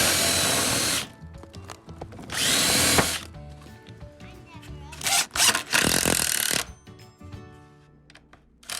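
A power drill bores a hole into a wooden board for a mobile nesting box, whirring in several loud bursts of one to two seconds, separated by quieter handling sounds and someone talking.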